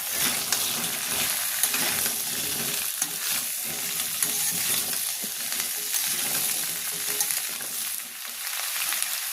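Busy sizzling and crackling of onions stir-frying in a pan, with scraping stirring sounds throughout, continuous and fairly close.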